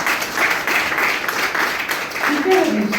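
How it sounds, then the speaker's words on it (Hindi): An audience gives loud applause for a group of female students at a coaching institute gathering. Continuous clapping runs throughout, with voices talking over it. "एक बार लास्ट पे जोरदार तालियां इनके लिए फिर से।"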